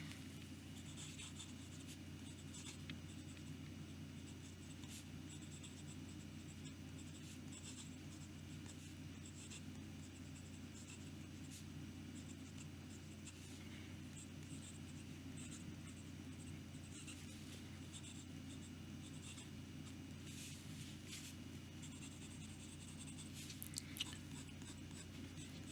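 A Jinhao 01 metal fountain pen with a wet-writing nib scratches faintly across paper, soft continuous scraping barely above a steady low room hum.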